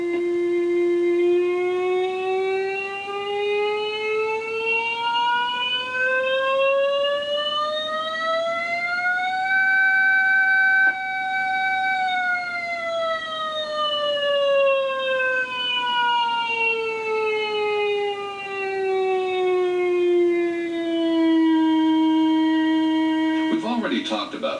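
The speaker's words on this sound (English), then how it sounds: "This next set of pads enables you to regulate the audio to the pitch or tone you prefer." Garrett Grand Master II metal detector from 1989 giving its audio tone, a single steady electronic whine that slowly rises in pitch, holds, then glides back down, clear and continuous with no talk.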